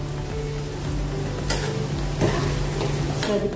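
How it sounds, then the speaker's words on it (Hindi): Corn fritters fry in hot oil, making a loud, continuous close sizzle with occasional stirring or turning clinks as they are flipped to brown on all sides. "सभी तरफ से अच्छे से इसको तलिए।"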